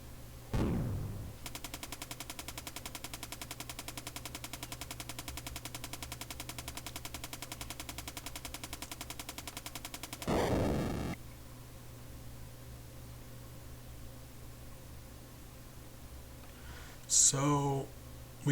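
Bombs exploding in the Super Mario RPG video game, heard as a sharp blast at the start, then a steady buzzing game tone, a second burst around ten seconds and a brief bright crash near the end.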